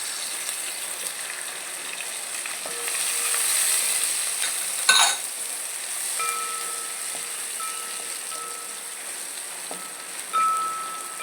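Dried red chillies, garlic and ginger sizzle steadily in hot oil after mustard seeds have popped, a close, continuous hiss with a few faint clinks and taps from the pan.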